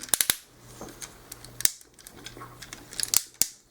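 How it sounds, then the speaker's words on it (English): Ratcheting knee joints on a Transformers Revenge of the Fallen Optimus Prime toy give a series of small, crisp plastic clicks, several quick bursts close up, with a low steady hum underneath. "Ratcheted knees."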